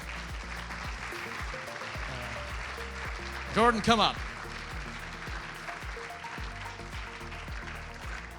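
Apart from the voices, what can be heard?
audience applause at a summit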